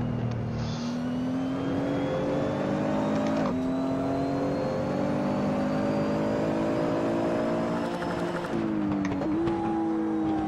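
A Nissan GTR's engine in Assetto Corsa revs and climbs through the gears, the tone rising steadily, then dropping sharply at shifts around the fourth and ninth seconds before climbing again, loud and continuous.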